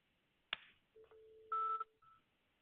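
A synthesized third-harmonic tone played back from Matlab during a signal processing lesson: a few short, clean electronic beeps at a moderate level, each a steady pure pitch, with brief gaps and a sharp click at the start.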